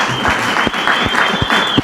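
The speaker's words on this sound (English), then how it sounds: "Let's give him a round of applause, ladies and gentlemen" Loud, steady crowd applause at a music listening session, close and continuous for a couple of seconds with a few sharper claps standing out.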